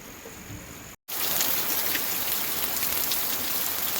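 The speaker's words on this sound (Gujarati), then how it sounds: "વરસાદ જો હારામ હારો પડી ગયો અને પાછો રહી ગયો છે" Heavy rain pours down steadily in a dense, even hiss, broken only by a split-second dropout near the start.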